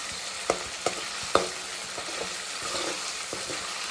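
Tomato juice with cumin cooks softly in a pan, a low, even sizzle broken by a few sharp taps of a spoon against the rim near the start.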